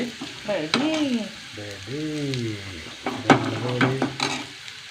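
Spices roasting and being stirred in a pan for a curry, a soft steady sizzle with occasional utensil scrapes, heard close beneath a person talking.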